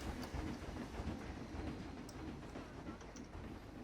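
A train rolls past in a log flume building game, a steady low rumble with faint clicking at moderate volume, no voices over it.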